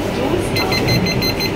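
A door-closing warning chime aboard the Howrah–New Jalpaiguri Vande Bharat Express at a station halt, a short electronic alarm-like tone over loud carriage hum and voices.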